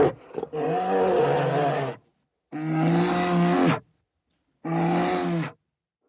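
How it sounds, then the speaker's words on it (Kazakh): An animated bear roars three times, each a deep, loud, drawn-out growl lasting about a second with brief silences between, close and alone. "аю,"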